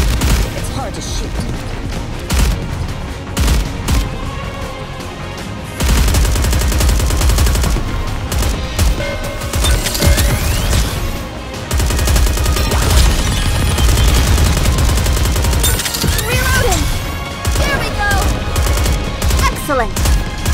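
Sustained gunfire in the anime shooter Goddess of Victory: Nikke, dense rapid bursts running throughout with music and game effects layered over it, and voices speaking over the action.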